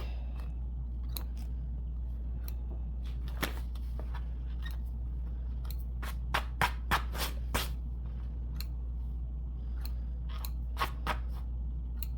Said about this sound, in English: I kind of just cut some of these loose threads off